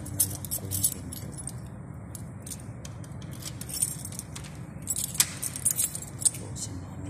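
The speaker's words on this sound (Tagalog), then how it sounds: "Ito na yung susi ko. Nalak ko yung pinto." Keys jangle and clink in bursts while a door is locked at closing time in a workplace, close and fairly quiet, over a low steady background hum, with brief metallic rattles toward the end.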